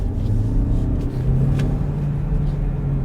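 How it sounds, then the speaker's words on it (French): A Hyundai Tucson full hybrid's four-cylinder engine revs up under acceleration, a steady low droning rumble with a rising harmonic tone, heard close from inside the cabin with no talking. "le 4 cylindres monté dans les tours, c'est pas forcément noble pour l'oreille"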